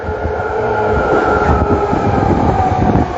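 A train stands at a station platform near SFO airport, giving off a loud, close, continuous rumble with mechanical clatter and no voices.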